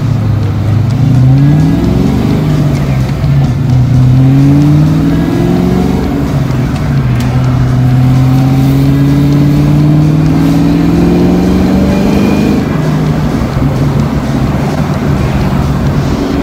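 A loud idling V8 in a Fox body Mustang with a B303 cam, its lumpy, choppy rhythm rising and falling slightly as the throttle is blipped, close and continuous.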